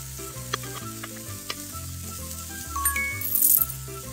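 Game-style sizzling of onions and garlic frying in oil in a pan, with stirring clatter and light clinks over a steady synth music loop.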